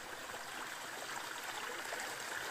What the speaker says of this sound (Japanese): ここも滝になっちゃってるね。